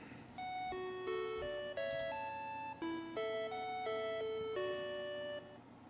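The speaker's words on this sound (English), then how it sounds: "Did the chime go?" Bright electronic chime tune for a livestream alert, a series of clean stepped tones playing a short melody at a moderate, steady level with quiet background.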